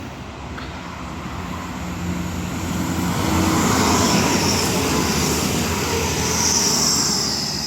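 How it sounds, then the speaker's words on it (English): Passenger train 1A60 from Sunderland to London King's Cross runs through Peterborough station, its rumble swelling over a few seconds into a loud, sustained roar. "Here's 1 Alpha 60 from Sunderland to London King's Cross."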